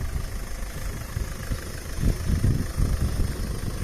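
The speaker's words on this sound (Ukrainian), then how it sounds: "Двигун у нас працює дуже м'яко" A 2010 Volkswagen Touran 1.9 TDI diesel engine idles steadily with a low, even rumble and no voices.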